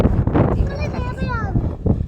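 Strong wind by a river roars and buffets a microphone steadily throughout, loud and close, while people talk over it.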